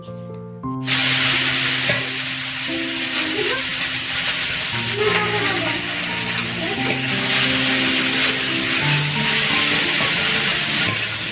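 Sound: potatoes frying and being stirred in a pan

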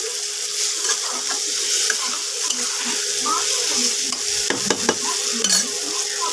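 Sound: stirring ginger paste into frying food in a pan

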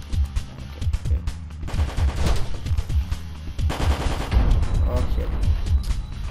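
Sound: gunfire in video game Low Poly Hitman

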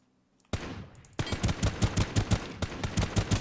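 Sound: single-fire gunshots in a video game

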